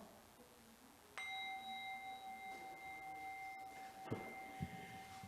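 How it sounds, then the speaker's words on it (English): A single bell strikes once and rings on with a clear, sustained tone that slowly fades, followed by a couple of soft knocks in a quiet room. "We ring this bell 3 times."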